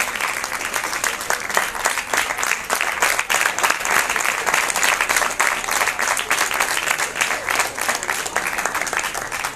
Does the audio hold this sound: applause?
yes